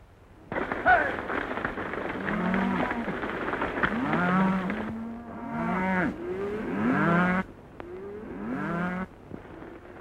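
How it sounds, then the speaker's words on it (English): A herd of cattle being driven to market lowing and mooing repeatedly, many overlapping calls near and far over a steady background, fairly loud throughout. "A nice bunch of cattle you're sending to market, Mr. Dawson."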